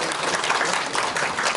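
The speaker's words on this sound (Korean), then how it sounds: "우리 학생들을 위해서 다 같이 격려의 박수" An audience claps together to encourage students at a municipal ordinance forum, a dense, loud burst of continuous applause filling the room throughout.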